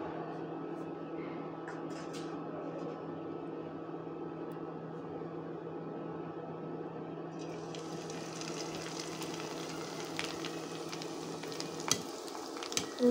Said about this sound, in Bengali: তেলে এই পিঠাগুলি ভেজে নিচ্ছি।